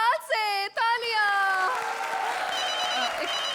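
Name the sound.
studio audience applause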